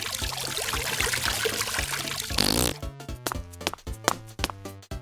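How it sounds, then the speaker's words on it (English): Cartoon pee splashing into a Play-Doh toilet, a steady close pouring trickle that stops abruptly, followed by a bouncy musical pattern. "this time all of his pee was going into the toilet"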